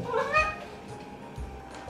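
A house cat lets out a clear, drawn-out meow near the start, followed by fainter mewing sounds, while a person calls to it nearby.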